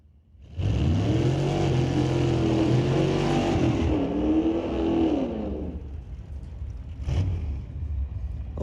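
A street-legal car makes a single drag race pass at Mission Raceway Park, its engine roaring up through rising revs before easing off and fading, with a brief revving blip afterward.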